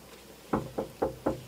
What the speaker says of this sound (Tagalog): Oh, may kumakatok.